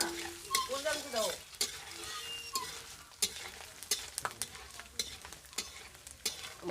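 Grated coconut hits hot oil in a tempering pan for khichuri and cabbage ghonto, giving soft sizzling broken by sharp clinks and scrapes of a spoon stirring, close and moderately loud.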